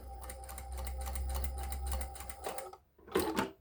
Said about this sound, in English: when we start sewing, it starts immediately